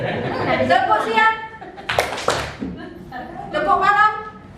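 A class of students claps out the 'tepuk siang' rhythm during a positive-culture school activity: a short burst of a few sharp group claps between voices, close and fairly loud, with talk before and after.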